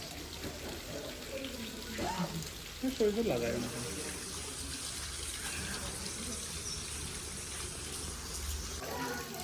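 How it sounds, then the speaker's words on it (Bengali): Water pours steadily out of a spout in a garden near Gangtok, a soft continuous trickling splash heard faintly under brief nearby talk and outdoor background noise. "জল পড়ছে মুখ দিয়ে"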